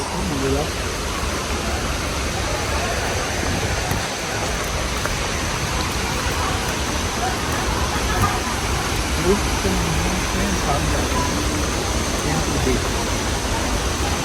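Steady roar of rushing, splashing water, like a waterfall, constant and fairly loud throughout.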